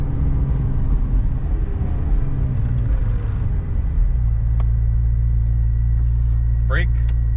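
A 2021 McLaren 720S sits in launch mode with its engine holding a loud, steady low rumble up close, while a voice speaks briefly over it.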